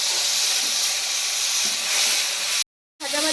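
Chopped tomato dropped into hot oil with whole spices, cardamom, cloves, cinnamon, bay leaf and cumin, giving a loud steady hissing sizzle close up that cuts out abruptly near the end before resuming.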